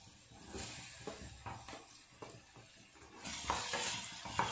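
Capsicum stirred into onions and spices frying in a pan while making chitranna, giving a steady soft sizzle with repeated scraping stir strokes that grow louder toward the end.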